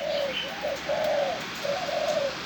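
Soft, repeated dove coos in a steady rolling pattern, several low hooting phrases close by over faint background hiss.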